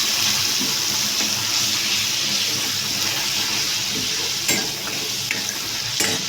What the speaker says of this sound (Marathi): जिऱ्यानंतर हे वाटण आपण केलेलं ते टाकून देऊया।